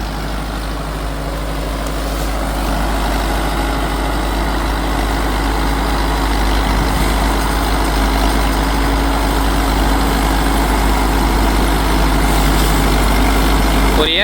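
A heavy Sonalika Tiger 75 CRDI 4WD tractor with a 75 HP turbo engine runs steadily nearby, giving a loud, continuous low drone with a broad hiss over it that barely changes throughout.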